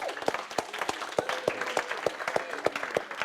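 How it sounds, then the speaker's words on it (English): A small audience claps in a brisk, even rhythm, distinct individual claps rather than a roaring crowd, fairly faint. "let's give a big round of applause for Roger again"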